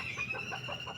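Farm chickens cluck in a short, moderately close burst of repeated calls over a faint background hum.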